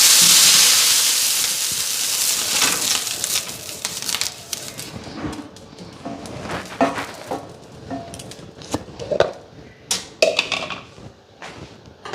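Dosa batter hits a hot oiled tawa with a loud hiss that slowly dies down, followed by scattered scrapes, taps and clatter of utensils nearby.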